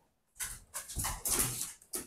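Dogs roughhousing in a game of tug of war, giving a run of close, scrappy growls and whimpering bursts, loud and uneven, with no talk over them.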